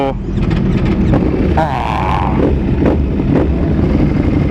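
A Ducati V4 race motorcycle fitted with an SC-Project exhaust rumbles loudly and continuously nearby, its engine roar steady with small surges, while people talk over it.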